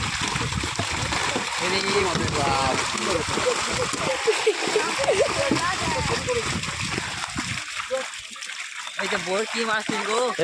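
Big fish thrash and splash in a fish farm pond as they are hauled up, with broadband water noise running throughout beneath near, continuous talking voices.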